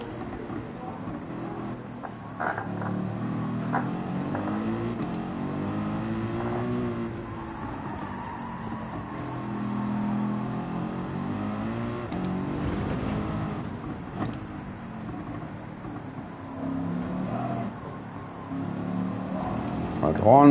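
A race car engine in Gran Turismo 7 drones and revs steadily, rising and falling in pitch across a lap, heard under someone talking excitedly throughout.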